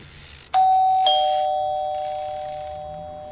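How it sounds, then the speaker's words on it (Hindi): A doorbell chimes two tones, ding then dong, each note ringing out and slowly fading. "उसने घंटी बजाई।"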